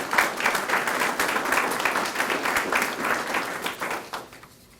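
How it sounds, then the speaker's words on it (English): Audience applause at a county workforce announcement ceremony: a dense, steady burst of clapping from a sizeable crowd that holds for several seconds, then fades out at the end. "If we could give them a round of applause for all of their support."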